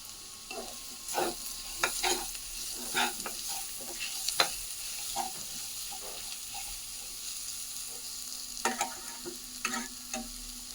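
Chowmein fries quietly in a pan under a soft, constant sizzle, broken by irregular clicks and scrapes of stirring, faint and close with no talk.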